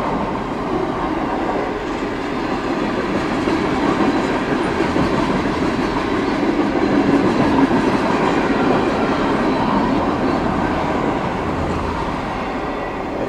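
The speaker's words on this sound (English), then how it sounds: "This is a huge train to have a DPU on it." A long, heavy freight train with a DPU rolls steadily past on the rails, a continuous loud rumble with faint wheel clatter, with no voices over it.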